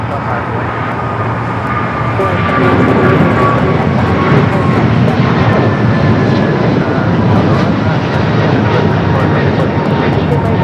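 An airliner takes off from runway 25 right at Los Angeles International Airport, a loud, continuous engine roar that swells slightly after the first few seconds and holds steady throughout, with distant traffic noise beneath.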